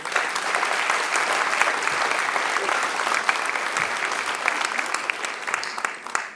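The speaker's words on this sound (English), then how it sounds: "So one more round of applause" A full room claps steadily at a community awards banquet, dense and sustained applause from the seated audience with no break across the whole stretch.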